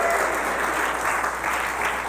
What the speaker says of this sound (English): Everybody give Annie a round of applause.